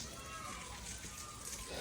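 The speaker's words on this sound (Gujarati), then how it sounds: "જો બહાર વરસાદ ચાલુ હ" Steady monsoon rain falls outside, a continuous hissing wash of drops on surfaces heard close and evenly throughout, with no voices.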